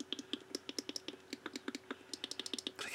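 Rapid, crisp clicking from the microswitches of an Atari 2600 joystick fitted with low-profile switches, sounding in quick irregular bursts of close, sharp taps for about three seconds with no voices.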